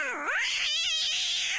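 A cat yowls loudly and close by, one drawn-out wavering cry that swoops low and then rises into a strained, harsh caterwaul, with no talking.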